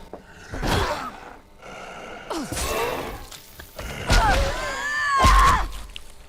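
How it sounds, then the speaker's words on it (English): Zombies in the video game Dead Island rasp with laboured breathing, then let out harsh grunts and strained screeches in separate bursts that build in intensity, loud and close with quiet gaps between them. "From their laboured breathing to their vicious grunts to their inhuman death screeches, they are wonderfully unpleasant to listen to."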